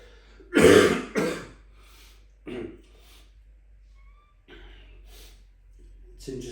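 Several short throat-clearing coughs come in quick succession at close range, followed by quieter breaths and small rustles in a calm indoor yoga session, with no talking.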